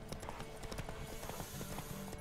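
A horse gallops during a race in the video game The Witcher 3, its hooves pounding in a fast, steady clip-clop rhythm that fills the whole stretch, close and continuous, with no voices.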